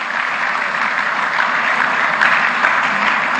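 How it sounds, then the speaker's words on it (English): Sustained applause from an audience at a live public event in Enugu launching a southeast lighting initiative, a dense steady wash of many hands clapping at even loudness throughout. "Can we give her a motherly round of applause?"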